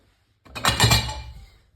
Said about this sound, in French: En attendant, vous prenez une casserole.